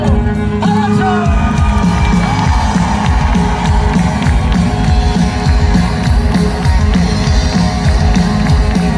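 Cheering crowd at a live concert at Morriña Fest 2025 in A Coruña, loud and dense throughout, with whoops and shouts over the roar and a low band rumble beneath.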